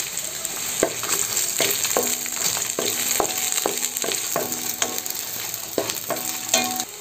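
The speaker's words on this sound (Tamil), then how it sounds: "வெங்காயம் பாதி அளவு வதங்கிடுச்சு." Onion, garlic and ginger sauté in a pan with a constant close sizzle, broken by regular scrapes and clinks as a spoon stirs them.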